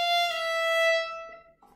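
Violin sounding an appoggiatura ornament, a bright sustained bowed note held and accented before a brief softer change near the end, solo and fairly quiet.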